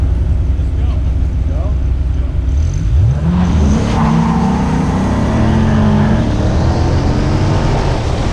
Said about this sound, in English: the Viper's V10 sounds surprisingly quiet and constricted